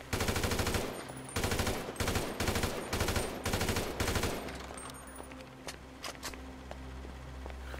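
Loud bursts of automatic gunfire in Grand Theft Auto 5 at a blimp, several rapid volleys separated by brief gaps before fading into quieter ambient game noise with scattered distant shots.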